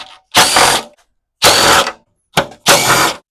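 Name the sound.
ratchet removing quarter-inch bolts from Tecumseh engine cover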